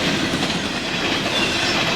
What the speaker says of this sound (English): In McVaytown, Train 21M moves mail and merchandise to the 63rd Street yard in Chicago.